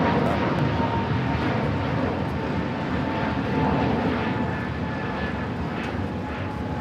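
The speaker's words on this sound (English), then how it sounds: "621 taking off to Rome, Italy on the A350-900" An ITA Airways Airbus A350-900 jet takes off from Los Angeles airport, a continuous broad roar of engines with a faint tonal whine, steady and fairly loud throughout.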